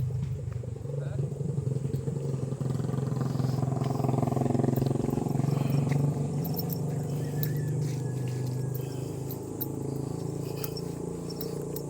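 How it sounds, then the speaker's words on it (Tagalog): Motorcycle engine droning steadily as it passes on a highway during a walk toward rock formations, a continuous mid-loud rumble with faint outdoor background. "Oo, agi yan motor."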